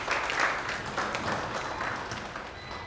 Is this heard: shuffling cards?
no